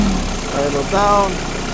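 A vehicle engine idles down outdoors while wood is being pulled off a rock, a steady low rumble with a brief mechanical whine in the middle. Someone talks over it.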